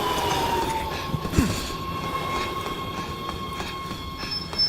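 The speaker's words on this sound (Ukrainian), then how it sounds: "Обережно поїзд." Train passing in the video game Resident Evil 6, a steady rumbling roll with rhythmic wheel clacks, a brief metallic wheel squeal and a faint high whine throughout, moderately loud.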